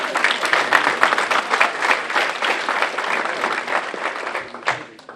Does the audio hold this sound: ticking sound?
no